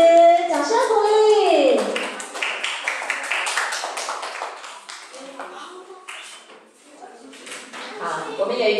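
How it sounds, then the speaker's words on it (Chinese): At a primary school gathering in Taiwan, a crowd applauds as the principal is welcomed to the stage. A voice speaks first, then scattered clapping and light taps follow before fading under more talk. "掌声鼓励"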